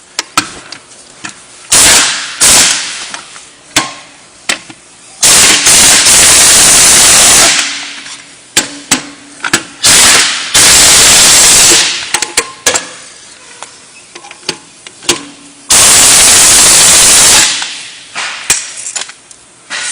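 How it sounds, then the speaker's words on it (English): A 1-inch pneumatic impact gun seats lug nuts on aluminum truck rims in a shop, firing in several loud, harsh rattling bursts of one to two seconds each, separated by short clanks and quieter pauses. "So I'm just going to bring my 1-inch gun over and seat those real quick."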